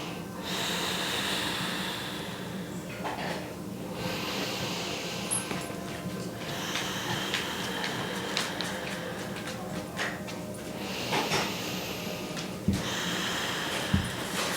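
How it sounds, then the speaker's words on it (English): Slow, steady breathing out through a slightly constricted throat during a yoga practice, a soft ocean-like rush that holds for the whole stretch with a few brief snorting catches near the end. "you constrict the back of your throat slightly, and it almost sounds like the waves of an ocean as you're breathing out"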